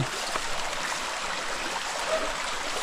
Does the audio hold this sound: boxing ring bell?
no